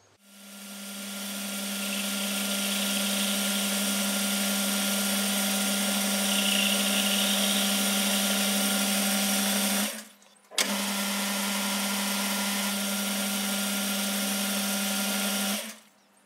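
A metal lathe faces the end of a part held in a collet. A steady, loud motor whine and cutting hum runs for about ten seconds, stops briefly, then resumes at the same pitch before cutting off.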